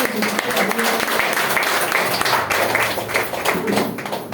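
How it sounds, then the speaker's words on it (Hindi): A crowd at a business product presentation claps loudly and steadily throughout, dense applause with a voice faintly audible underneath. "एक बार जोरदार तालियां"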